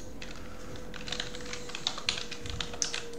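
Fingers tap out an email on a computer keyboard in a quiet room, producing a quick irregular run of soft, close clicks and keystrokes with a few sharper taps, and no voices.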